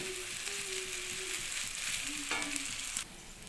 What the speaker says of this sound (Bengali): সামান্য একটু হলুদ দিয়ে চান দিয়ে এটাকে ভালো করে নাড়িয়ে নেব